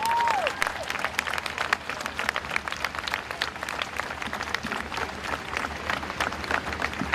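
A crowd at a peaceful protest in Portland, Oregon applauds steadily, a continuous patter of many hands at moderate distance with scattered louder claps, a brief voice at the very start.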